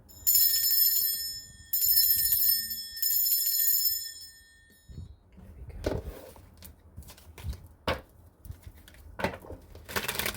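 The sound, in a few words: bell being rung to cleanse the space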